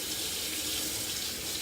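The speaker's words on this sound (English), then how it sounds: "okay, going to rinse this out." Water runs steadily, rinsing conditioner out of natural hair during a wash, a continuous close hiss and splash with no speech.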